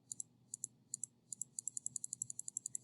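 Rapid plastic button clicks on a TI-84 graphing calculator, close and quiet, starting in spaced pairs and speeding into a steady run of repeated presses, with no talking.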